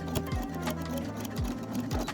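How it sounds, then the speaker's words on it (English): A sewing machine runs a zigzag stitch along knit fabric beside a serged edge, its steady, close mechanical whir carrying a rapid rhythmic ticking throughout, with no talk. "I'm just gonna zigzag stitch her down here on top of the, I'm trying to do it right next to the serging"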